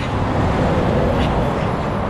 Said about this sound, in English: There's so many lorries going past.